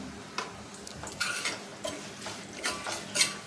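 Garlic and curry leaves frying in a tempering for paneer curd kadhi, giving a light, continuous sizzle with soft spoon scrapes and bursts of crackle, no talking.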